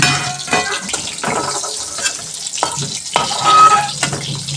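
Slices of pointed gourd (potol) fry in hot oil in a home kitchen, a close, steady sizzle broken by repeated scraping and stirring knocks as the pieces are turned, with no talking.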